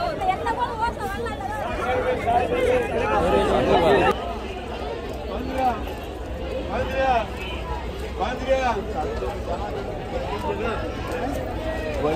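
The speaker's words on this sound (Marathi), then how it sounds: "भरपूर गर्दी आहे काहीतरी." Loud crowd babble fills the Bhaucha Dhakka wholesale fish market in Mumbai, with many overlapping voices, close shouts and footsteps mixing into a continuous busy din.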